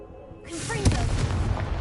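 A Confringo blasting spell from the video game Hogwarts Legacy bursts into a loud, close explosive boom that rings out and fades into a rumbling tail, with spell effects crackling over it.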